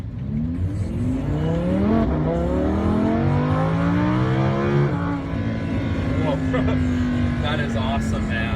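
A Lamborghini Huracan in sport mode pulls away and accelerates hard, its engine note climbing through gears in rising sweeps, then settling into a steady loud drone; the engine is heard close, with voices partly under it.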